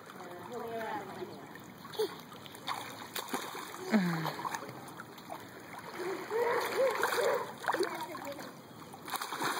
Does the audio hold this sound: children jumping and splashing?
yes